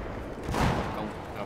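Suppressed gunfire from a silenced weapon in a Battlefield 4 multiplayer match, a short muffled burst of shots near the middle, under someone talking.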